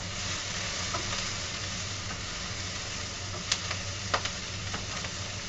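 Vegetables and potatoes stir-frying in a pan for a veggie stir fry, giving a steady loud sizzle throughout with a few sharp clinks of a utensil against the pan near the end.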